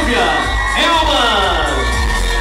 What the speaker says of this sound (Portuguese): E as palmas para a candidata Silvia